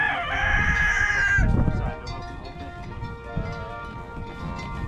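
A rooster crows loudly and close for about a second and a half while chickens cluck, then quieter farmyard noise continues.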